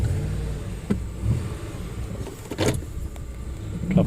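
A Ford F-150 pickup's engine idles steadily after a misfire repair, a smooth low rumble heard close up, with a few faint clicks and a brief rise partway through.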